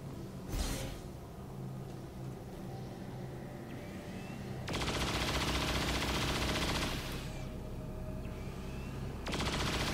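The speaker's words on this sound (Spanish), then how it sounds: "Disparo doble." Double-shot gunfire in the XCOM War of the Chosen video game comes as dense rattling bursts, two long loud volleys separated by a short lull, layered over continuous ambient game noise.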